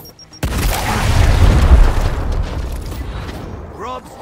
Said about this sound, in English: With a nade.